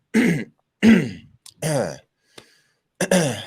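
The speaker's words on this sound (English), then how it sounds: "I had to clear my throat before I get to the punchline." Several harsh throat clearings in quick bursts, close and loud, with short pauses between them.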